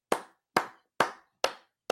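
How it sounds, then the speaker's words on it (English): Five sharp hand claps ring out at an even, unhurried pace, each one crisp and close with a quick decay into silence. "I'm just gonna clap for him right here."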